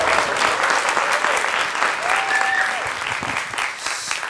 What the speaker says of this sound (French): J'ai demandé à applaudir très fort Léa Van Stock.